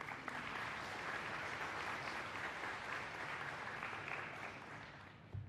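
Steady audience applause at a school D.A.R.E. assembly, welcoming a speaker to the stage, a dense even clapping from a large room that holds for several seconds before tapering off.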